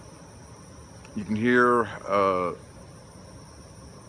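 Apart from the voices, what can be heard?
crickets and birds chirping outdoors by a creek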